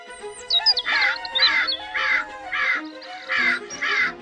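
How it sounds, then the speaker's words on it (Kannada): Crows cawing near a house at night: a run of six harsh, evenly spaced caws, loud and close, with faint background chirps and no talk. "ನಿಮ್ಮನೆ ಹತ್ರ ರಾತ್ರಿ ಹೊತ್ತು ಕಾಗೆಗಳ ಕೂಗು ಜಾಸ್ತಿ ಕೇಳಿಸ್ತಿದೆ"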